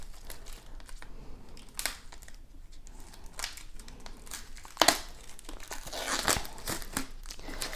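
Crinkling and tearing of plastic wrap and tape while an iPad mini 6th generation box is unboxed, in a string of close, moderately loud rustles and rips with one sharper crunch midway and no talking.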